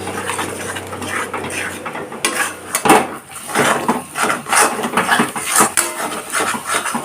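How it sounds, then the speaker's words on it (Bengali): A metal spatula scrapes and clatters against a kadai as four beaten eggs are stirred over a high gas flame in a little oil, a close, repeated scratching rhythm with no talk. "এখন গ্যাসটাকে হাই ফ্লেমে করে ভালোভাবে নাড়াচাড়া করে নেব যতক্ষণ না ঝুড়ো ঝুড়ো হয়"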